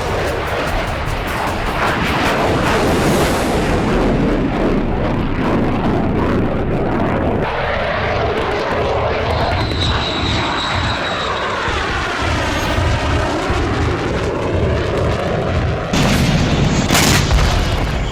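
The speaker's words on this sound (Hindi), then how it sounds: "धमाका सिर्फ और सिर्फ पुतिन का ये सुपर फाइटर Su-57 ही करता है।" A Su-57 fighter jet roars loudly and steadily overhead for the whole stretch, its engine tone sweeping and shifting, with heavy booms of explosions mixed in and a fresh burst near the end.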